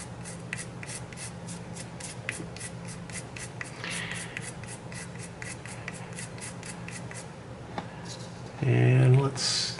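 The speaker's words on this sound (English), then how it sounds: "And we're going to scrub it every which way." Steady scrubbing of a Medico Guardsman tobacco pipe during restoration, a close, rhythmic brushing and rubbing that continues evenly for several seconds before a louder handling noise near the end.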